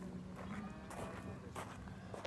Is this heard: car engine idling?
no